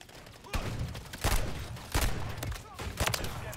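RW1 pistol shots in a video game ring out as about five sharp, separate cracks spaced roughly half a second to a second apart, moderately loud, with muffled game ambience between them.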